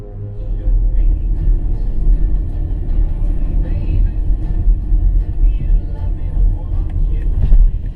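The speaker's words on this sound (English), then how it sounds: "the Dodge suddenly slows down in the middle of the road and stops at an angle, blocking the woman's path" Dodge car slowing down in the middle of a road and stopping at an angle, a loud continuous low rumble of engine and road noise, close and steady with a brief swell near the end.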